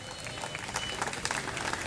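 At a Defense Day student event at Muslim College Multan, an audience applauds with a steady patter of many hands. The clapping is fairly faint and continuous, with crowd murmur mixed in.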